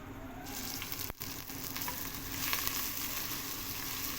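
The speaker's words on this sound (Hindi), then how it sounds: "हल्का सा इसको हम फ्राई करेंगे।" Garlic-ginger paste frying in ghee in a pan while cooking moong dal, a steady close sizzle and crackle that holds throughout with one brief dip near the middle.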